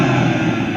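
A BMW M2 engine held at high revs, a dense, steady mechanical roar that stays loud and constant from start to finish, with no pauses or voices.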